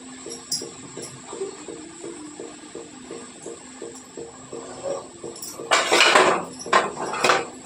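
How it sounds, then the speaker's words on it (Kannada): A spoon scrapes and clinks repeatedly against a pan as leafy greens are turned over while cooking, with steady rhythmic taps and a louder burst of metallic scraping near the end, no voices. "ಹಿಂಗೆ ಒಂದು ಸ್ಪೂನ್ ಸಹಾಯದಿಂದ ನಾವೇನಾದ್ರೂ ಇದನ್ನ ತಳಗ ಮೇಲೆ ಮಾಡ್ತಾ ಹೋದ್ರಿ ಇದು ಸೊಪ್ಪು ಪೂರ್ತಿ ಕರಿಗ್ರಿ."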